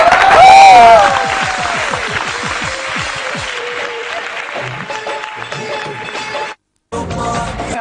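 A crowd applauds loudly at first, then settles into steady clapping mixed with murmuring, cutting out briefly near the end.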